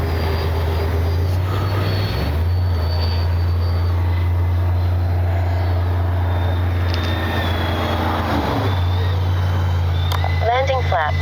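Freewing 80mm A-10 V2 twin-ducted-fan RC jet making low passes in low light, a steady loud droning whine that shifts pitch as it passes close by, with faint voices in the background.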